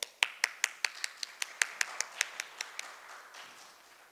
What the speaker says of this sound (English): May I please call upon Mr. Anil Kumar with a round of applause.